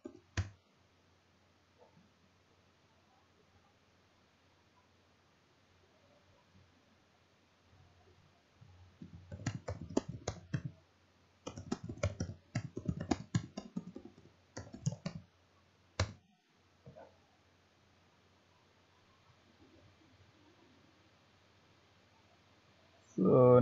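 Keys clicking in quick bursts as a search prompt is typed on a computer keyboard, quiet and close, with pauses between clusters of keystrokes.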